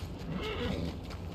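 A horse whinnies in a video game near a stable, a fairly quiet neigh over a steady low background hum with faint hoof-like clatter.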